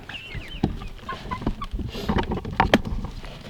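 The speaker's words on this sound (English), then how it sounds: "The chickens are just so happy free ranging in the forest." Free-range chickens roaming in a forest cluck and chatter softly at close range, a scattered mix of short murmuring clucks and higher calls with light rustling in between.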